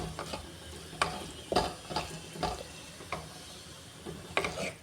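Masala being stirred in oil in a pan for a sardine curry: a faint, close spoon scraping the pan in an irregular rhythm, about a dozen soft strokes over a low sizzle.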